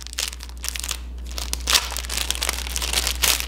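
Crinkly plastic packaging is peeled and torn from Snowyee bench scrapers, a close run of sharp crackles and rustles with a few louder crunches and no speech.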